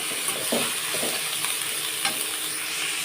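Food frying and being stirred in a home kitchen pan with salt just added, giving a steady bright sizzle with soft scraping and stirring clatters at irregular moments and no talk.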